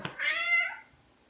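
A cat gives a single clear meow close by, rising and then trailing off in under a second, with a soft thump just before it and near silence afterward.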